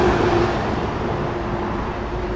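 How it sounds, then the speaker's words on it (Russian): Steady, loud broadband roar of highway traffic passing close by near a budget supermarket in Alanya, Turkey, with no distinct individual vehicles standing out. "И трасса."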